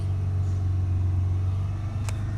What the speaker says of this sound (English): We're going to hold the revs up close to say 3000 RPM.